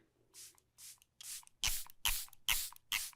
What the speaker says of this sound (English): I'm going to do one quick pass of a setting spray.